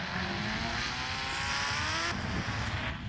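A steady, high-revving Yamaha R15 motorbike engine in the game Indian Bike Driving 3D drones continuously with a shift partway through, loud and close with no talking.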